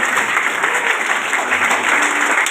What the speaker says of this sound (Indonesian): Kita tepuk tangan doang